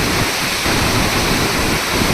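Floodwater rushing down the swollen Ghod River after a night of heavy rain, a loud, steady roar of churning water that fills the whole clip with no pauses.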